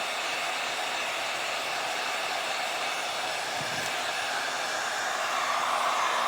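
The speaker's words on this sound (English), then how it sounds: "excuse me for the noise, but we're going to go ahead and dry this side real quick" A hair dryer blows steadily while drying a DIY outdoor light cover, a constant loud airy whir held throughout with no pauses and no talking.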